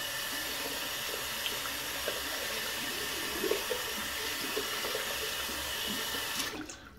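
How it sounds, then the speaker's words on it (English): Steady tap water runs continuously as a soap container is rinsed under the faucet. A close, even rushing sound continues and cuts off near the end. "Go ahead and rinse the container."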